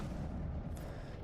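Rocket launcher blast in Mass Effect, a heavy, rumbling boom that fills the whole moment with dense low-end roar, fairly loud and close.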